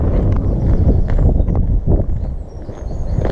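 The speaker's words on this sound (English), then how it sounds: "It's a bit windy." Gusty wind on a canal walk rumbles and buffets the microphone without a break, a heavy low roar that rises and falls.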